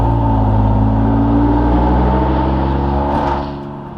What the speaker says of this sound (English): how loud my Raptor's exhaust is by going under this and flooring it